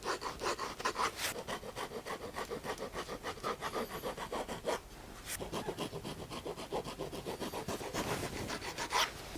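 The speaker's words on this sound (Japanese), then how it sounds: "これは片面だけヤスリになってて、こっちはツルツルですね。 これを当ててアッパーに傷つけないように、この積み上げの上のラインだけ削っていきます。" A flat rasp files the top edge of a stacked leather shoe heel, producing repeated rhythmic scraping strokes, close and fairly quiet, with a short pause midway.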